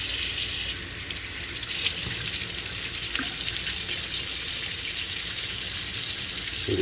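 Steady hiss of running water with rough scrubbing from a scrub brush and dish detergent, continuous and close throughout, no talking.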